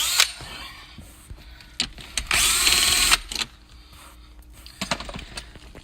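A power drill zips out 7 mm bolts on a Cadillac SRX dashboard, with one loud whirring burst of about a second amid light clicks and handling noises, close by.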